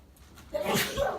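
A single sneeze in a classroom, close and fairly loud, bursting out after a brief quiet inhale.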